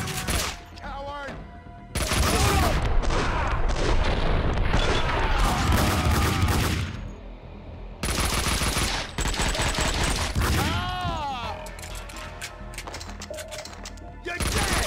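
Gunfire in Max Payne 2: dense bursts of rapid shots and booming impacts in repeated volleys, with brief lulls between them and voices shouting amid the shooting.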